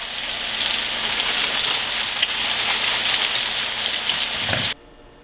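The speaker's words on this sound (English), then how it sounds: "Get it in, give it just a gentle stir to make sure the pieces aren't going to stick, and let her fry." Okra pieces in flour coating frying in hot oil, a loud, steady, dense sizzle with crackling that runs unbroken for several seconds, then cuts off abruptly.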